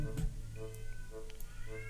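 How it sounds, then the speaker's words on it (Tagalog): Cats fighting outdoors, yowling and meowing, a few drawn-out calls overlapping against a steady low background hum, moderately close. "Maingay yung pusa ko sa labas eh."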